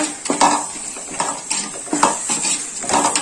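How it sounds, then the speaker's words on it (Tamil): Curd is mixed into biryani masala in a pot, with a spoon scraping and clinking against the metal in quick, repeated close-up strokes and a faint sizzle underneath. "தயிரும் அதிலேயே சேர்த்துட்டு நல்லா மிக்ஸ் பண்ணிவிடுங்க"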